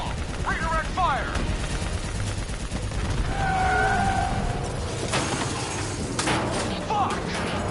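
Gunfire from the Black Ops 3 campaign comes as scattered sharp cracks under a busy battle mix of voices, whistling sweeps and a steady rumble, with a few louder shots clustered toward the end.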